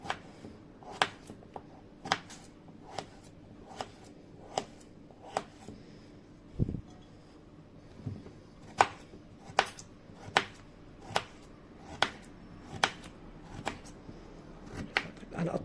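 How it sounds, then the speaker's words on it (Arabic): Knife chopping potatoes into half-circle slices on a board for a meatball and potato dish, a steady run of sharp, close taps roughly every half second, with faint background room noise. "هنقطع البطاطس كلها"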